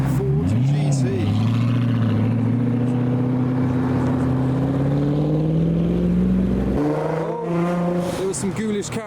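A Ford GT sports car passes along the road at a car show, its engine droning steadily and shifting pitch as it goes by, with a commentator speaking over it.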